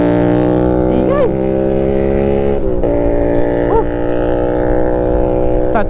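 Loud, steady motorboat engine drone on a river at Agos River in Infanta, Quezon, holding a constant harmonic hum with brief pitch wobbles as the boat moves, close and continuous throughout.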